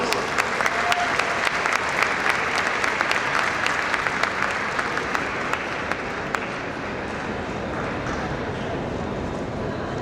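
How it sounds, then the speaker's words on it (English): Steady, loud applause from the audience at an inaugural ceremony, dense clapping sustained without a break from start to finish. "A round of applause."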